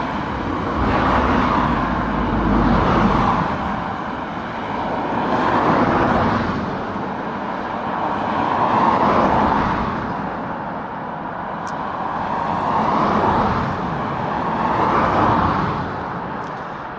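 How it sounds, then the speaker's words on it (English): Steady road traffic on a Finnish road, with cars passing in slow, repeated swells of tire and engine roar that rise and fade at moderate distance, with no voices. "There's quite a little bit of traffic on this road."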